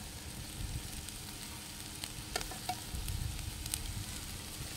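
Soybeans frying in a pan give a steady, moderate sizzle with soft crackles, broken by a few clicks and scrapes as they are stirred, all close and without talk.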